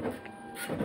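An Apple ImageWriter II dot-matrix printer prints in colour, switching to magenta. It makes a brief, close mechanical buzz and whir as the print head moves.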